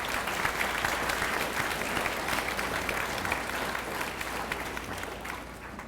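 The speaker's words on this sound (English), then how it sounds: "Let's give them a nice round of applause." A school Memorial Day audience claps for the student speakers, band and chorus, a sustained, fairly even round of applause from a crowd that fades slightly at the end.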